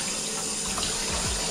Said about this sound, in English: Wash it off before we cut it up,